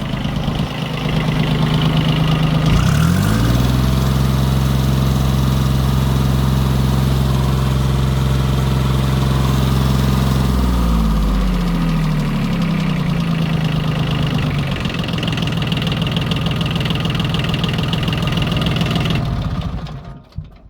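An old tractor with live hydraulics and linkage idles loudly and steadily after starting up, its low engine drone close by and continuous for most of the run before cutting out near the end.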